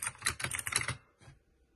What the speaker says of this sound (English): The mechanical switches, they provide a satisfying typing experience.